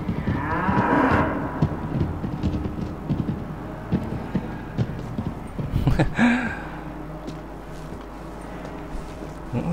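Cattle moo loudly in the video game Anabiosis: Dream of Reason, with clopping hooves shuffling underneath and a few scattered bursts of movement as the herd is driven along.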